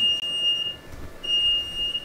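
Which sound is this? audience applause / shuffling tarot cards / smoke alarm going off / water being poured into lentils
smoke alarm going off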